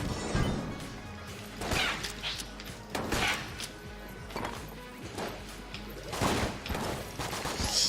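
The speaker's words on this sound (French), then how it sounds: "Ah le vecteur, ça, c'est l'arme, l'une des armes que je préfère ça. Il est expéditif ce fusil." Vector gun firing in the twin-stick shooter Enter the Gungeon, heard as close, punchy volleys of shots that come in repeated bursts with short pauses between them, with no talking.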